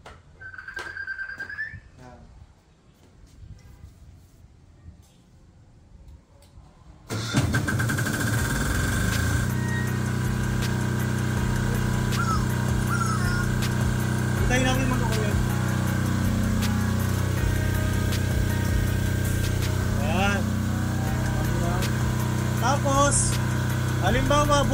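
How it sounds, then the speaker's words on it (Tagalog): After a quiet stretch, a Philking 10KVA diesel silent generator kicks in on its own and runs with a loud, steady droning hum close by, while a voice speaks over it. "Dapat mabubuhay na po sa si generator."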